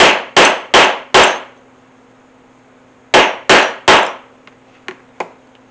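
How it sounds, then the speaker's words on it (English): A 1/4 inch leather hole punch is struck repeatedly with a hammer through a piece of scrap leather, giving loud, ringing metallic clangs. The first burst has four quick blows, then three more follow, then a couple of faint taps. "Let me drive a punch through this scrap piece of material."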